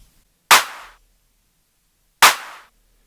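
A basic clap sample in an FL Studio beat, two crisp isolated hits about two seconds apart with short decaying tails and silence between them.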